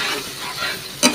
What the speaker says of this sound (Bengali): তারপরে ভালোভাবে এটাকে তেল ছাড়া যতক্ষণ না থাকে ততক্ষণ নাড়াতে হবে।